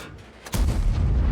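Video game AMX CDA 105 tank gun fires once with a loud, close boom that swells into a heavy rumbling roar.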